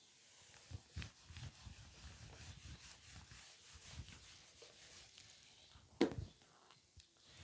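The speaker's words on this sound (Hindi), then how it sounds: "ये मैं रब कर रहा हूं" Rubbing and wiping strokes of a duster or hand erasing writing on a classroom board during a maths lesson, a run of quiet scrubbing bursts with one sharper knock near the end.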